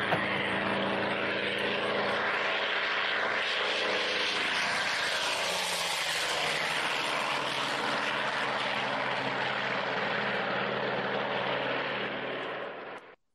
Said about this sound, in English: let's take a listen to the Skyraider starting up and taking off